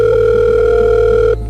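A telephone gives a single steady electronic tone at night, a call coming from an unknown number. The tone is loud and close, holds for just over a second, then cuts off abruptly.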